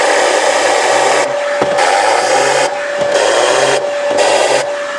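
Tornador compressed-air cleaning tool blasting dirt out of car cup holders during interior detailing, a loud continuous hissing roar in several bursts with brief pauses between them.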